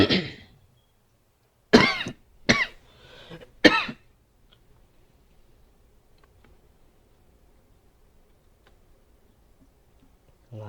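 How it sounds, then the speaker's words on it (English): A person coughs close to the microphone, a short cough followed by a cluster of three harsh coughs mixed with throat clearing over about two seconds, then near silence. "I'm coughing and stuff."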